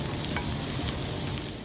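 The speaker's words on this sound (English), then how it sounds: "let that sizzle and turn to golden brown" Steady, close sizzling and crackling of garlic frying in butter at a campsite in Banff, Alberta, continuous and fairly loud with no talking.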